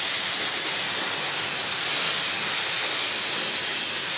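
A spray of liquid hisses over a front brake part from a Ford F-150 being rinsed. The spray is loud, steady and continuous, with no pauses.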